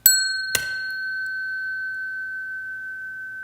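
A bell is struck once, then quickly again, and rings on with a pure, steady, long-sustaining tone that barely fades across several seconds, alone and clear.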